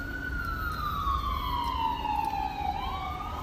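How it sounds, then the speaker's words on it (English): An ambulance siren sweeps past, a clear wailing tone that slides down in pitch as it moves by, heard alone at moderate distance over faint background hum. "I think it's an ambulance though"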